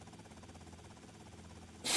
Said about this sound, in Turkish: Hapşırmaya devam abi.